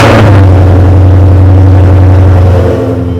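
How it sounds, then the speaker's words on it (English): Mazda Miata engine cold-starting, catching with a loud surge and settling into a steady, rough, high idle drone close by. "Cold start."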